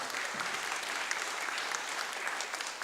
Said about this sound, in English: So let's give a quick round of applause for him.